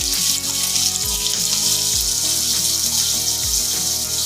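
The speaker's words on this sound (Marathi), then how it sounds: "आता ही तेलात टाकते मी भाजायला." Sliced potatoes fry in hot oil, giving a steady loud sizzling hiss with bubbling and occasional low thumps, close up and uninterrupted by speech.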